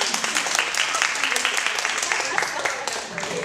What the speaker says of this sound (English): It's not fair to clap in front of the microphone